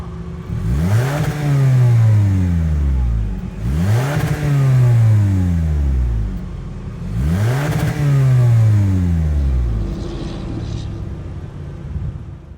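A 2023 Toyota Camry XSE engine revs hard three times in a row through a chrome quad-tip exhaust, each rise climbing to a loud roar and falling back to idle, with a low exhaust rumble.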